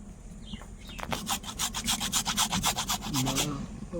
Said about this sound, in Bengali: এখন টমেটোটা গ্রেট করে দেবো